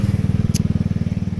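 A scooter engine fitted with an AliExpress aftermarket exhaust revs high and runs slightly lean, giving a loud, rapid, even pulsing drone close by.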